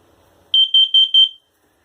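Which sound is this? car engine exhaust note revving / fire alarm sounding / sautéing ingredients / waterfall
fire alarm sounding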